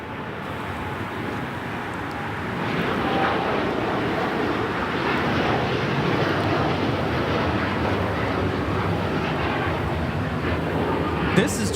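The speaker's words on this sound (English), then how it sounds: "This is Japan Airlines Flight 69 taking off to Osaka on the 787-9 Dreamliner" A Japan Airlines Boeing 787-9 Dreamliner takes off from LAX on a flight to Osaka, its steady jet roar swelling after a couple of seconds and holding loud and continuous, with faint voices nearby.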